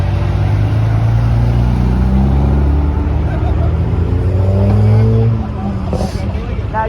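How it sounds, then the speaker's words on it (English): A car rolls past at a large car meet outside a Buc-ee's, its engine humming loud and close with a low steady drone that fades at the end, while people chatter nearby. "Car coming."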